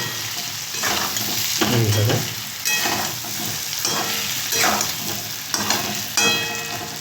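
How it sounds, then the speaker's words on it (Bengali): Mango pieces are stirred in a frying pan for a fish dish with pumpkin, a steady sizzle broken by several scraping, clattering stirs of the utensil. "আমগুলো দিয়ে দেবো দিয়ে জাস্ট একটু নাড়িয়ে নেবে"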